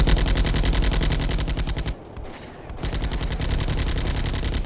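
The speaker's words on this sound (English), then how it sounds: "Oh, there we go. I'm seeing some gunfire." Rapid machine gun fire rattles in the Combat Mission A Bridge Too Far war game, a loud dense burst that breaks off for under a second, then resumes just as hard.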